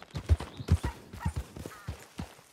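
Horse hooves clip-clop at an easy, steady pace in the video game Red Dead Redemption 2, a string of fairly close soft thuds heard alone.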